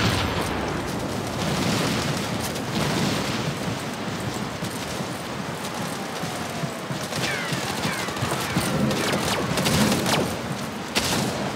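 A grenade goes off amid a constant din of gunfire, blasts and clanking weapon mechanisms in a 5v5 online match of the shooter game Shadowgun War Games, loud and dense from start to finish with no pauses.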